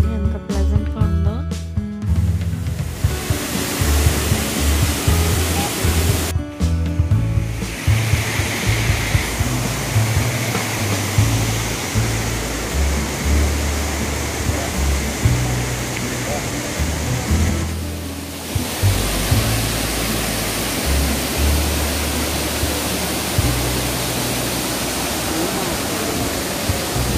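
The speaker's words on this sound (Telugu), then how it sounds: "ఒకసారి వాటర్ సౌండ్ వినండి" Water pouring down Kothapalli waterfall, reached by a long flight of steps, makes a loud steady rushing roar that fills the whole stretch, close by and continuous, with a brief voice near the start.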